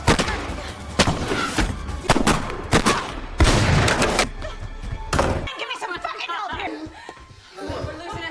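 Several sharp, loud gunshots crack out in irregular succession, followed by quieter chatter and rustling.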